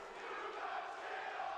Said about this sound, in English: Crowd on their feet for very good reason.